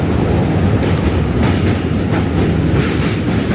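A New York City subway B train rolls loudly along the rails nearby, a steady roar with a rhythmic clickety-clack running through the whole stretch.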